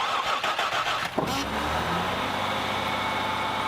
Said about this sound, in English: Now, we're ready to fire this thing up, make sure we don't have any check engine lights